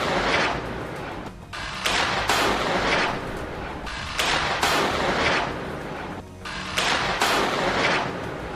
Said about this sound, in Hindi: ये विस्फोटक अपने आप फायर होने लगते हैं